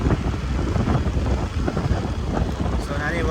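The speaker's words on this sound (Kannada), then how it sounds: "ಗಾಳಿ ಜಾಸ್ತಿ ಇದೆ ಗೈಸ್." Strong outdoor wind buffets the microphone, producing a loud, steady broadband rumble with gusty swells that lasts the whole stretch.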